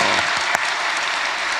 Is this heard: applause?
yes